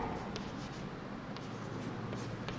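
Chalk or marker scratches steadily on a classroom board during a Hindi lesson, a continuous soft scraping with a few sharper strokes over a constant room hum.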